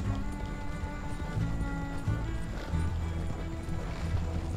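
Horses pulling a coach in Red Dead Redemption 2 clip-clop in a steady rhythm, hooves loud and close over a rumbling ground, with no voices.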